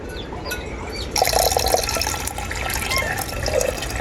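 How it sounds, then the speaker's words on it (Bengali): Water is poured into a pressure cooker to boil soaked chickpeas, a splashing, gurgling stream starting after a second of quieter clatter and running steadily close by, with no talking. "এরপর আমি কুকারের মধ্যে কাবলি ছোলা সেদ্ধ করার জন্য জল দিয়ে দেবো পরিমাণ মতো"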